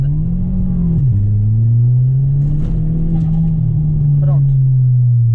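A turbocharged Volkswagen Jetta's engine droning loudly and steadily as it pulls hard at night, pitch dipping briefly at a gear change, heard close from inside the car.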